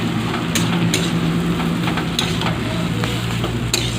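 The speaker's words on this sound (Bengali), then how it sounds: "এইবার এটা আমি নাড়তে থাকবো।" Red amaranth greens and ground pea lentil paste sizzle in a pan while being stirred, a steady hiss broken by several scraping clicks of the spoon, with no one speaking.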